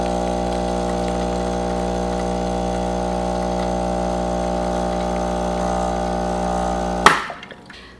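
A Saeco Aulika EVO Focus espresso machine makes an espresso, its grinder running as a steady, loud mechanical drone with a constant tone for about seven seconds before stopping abruptly with a clunk and brief rattle.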